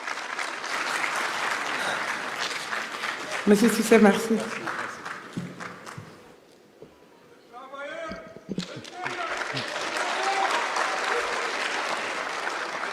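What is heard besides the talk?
audience applause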